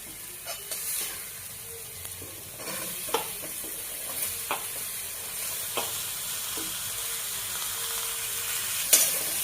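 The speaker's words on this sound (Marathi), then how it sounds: "आता आपण दुधी भोपळा टाकून घेऊया" Chopped bottle gourd tossed into a hot pan with turmeric sizzles and fries steadily, with scattered stirring clatters and scrapes rising over a constant close hiss.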